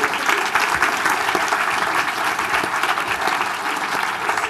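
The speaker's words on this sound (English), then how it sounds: "we should give her a round of applause." An audience at a chocolate talk breaks into sustained, dense applause that fills the whole stretch at steady loudness, with no pauses.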